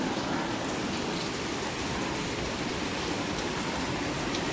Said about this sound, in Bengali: বৃষ্টি পড়ছে আজকে।